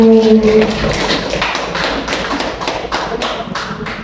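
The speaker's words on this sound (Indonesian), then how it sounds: "Kita tepuk tangan dulu Bapak Ibu." Bapak and Ibu at a teacher-training session in Indonesia clap hands together in quick, regular strokes. The loud, close clapping carries on through the whole four seconds, with a short tone heard at the very start.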